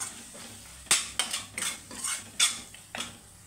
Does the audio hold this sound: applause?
no